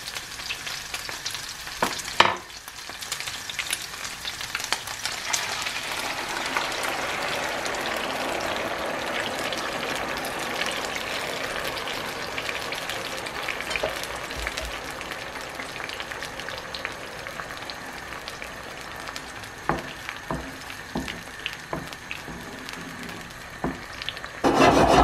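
Chicken sizzles and fries in a pan while being stirred, with curry-seasoned rice going in; a steady close frying hiss runs throughout with scraping stir strokes and a few sharp clicks.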